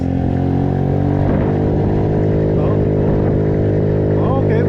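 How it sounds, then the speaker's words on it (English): A PMZ50 Honda Grom clone minibike engine is held at wide open throttle, yet it drones with a strained, steady low buzz that barely rises, close and loud, with a voice talking over it. "I'm currently wide open throttle, and this is all I can do without shutting off."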